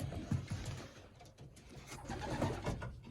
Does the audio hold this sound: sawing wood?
no